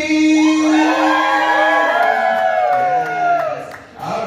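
Audience at a live stage show cheers, whoops and yells continuously, a dense roar of many voices with rising shouts, fading slightly near the end.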